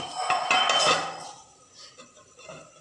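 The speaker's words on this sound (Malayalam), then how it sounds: "ഒന്ന് മൂടി വയ്ക്കാം ഒരു തള വെച്ചാൽ മതി" A plate is laid as a cover over a pot of fish curry, giving a bright metallic clatter and clink up close that rings loudest at first, then fades into softer scraping rattles.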